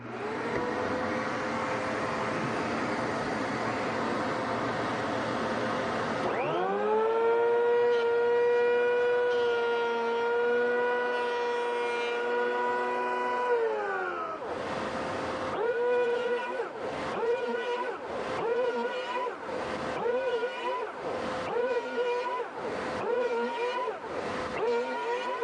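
A TopShak hand-held power planer runs, first a loud whining spin, then a steadier tonal drone as it cuts a board. It ends in a string of bursts as passes start and stop.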